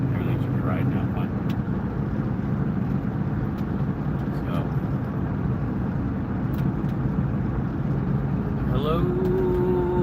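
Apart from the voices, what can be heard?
car driving at about 45 miles an hour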